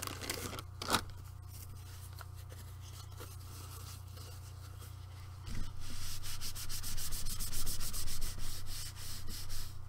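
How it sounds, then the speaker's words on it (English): A craft mat being wiped clean with a baby wipe, soft rubbing and scrubbing strokes that grow louder and more continuous in the second half, close by with no talk. "I'm going to just grab a baby wipe, and I'm going to clean off my mat."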